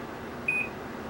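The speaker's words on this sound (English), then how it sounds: "You should have heard a beep from the ceiling mounted opener, which we did." A single short electronic beep from a ceiling-mounted LiftMaster garage door opener, a clear steady tone lasting a fraction of a second over a quiet room background.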